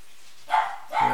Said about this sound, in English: And that's the dog you can hear barking.